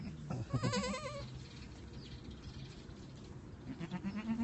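Newborn goat kids bleat in a few short, wavering cries near the start, then again toward the end, over steady farmyard background noise.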